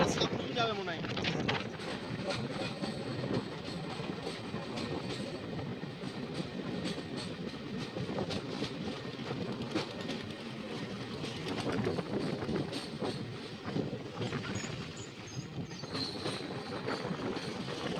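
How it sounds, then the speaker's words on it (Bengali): The Kanchenjunga Express rolls past near Malda, heard from another moving train as a steady, loud rumble of wheels with rhythmic clatter, occasional squeal and wind buffeting throughout. "এদিকে কাঞ্চনজঙ্ঘা এক্সপ্রেস ঢুকছে এখন মালদার উদ্দেশ্যে"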